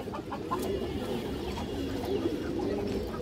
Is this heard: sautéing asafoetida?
no